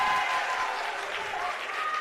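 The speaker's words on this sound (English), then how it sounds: "Hear this crowd getting loud in here" Crowd at a men's JV high school basketball game between De La Salle Collegiate and Birmingham Groves cheers and applauds in a steady, sustained roar across the gym.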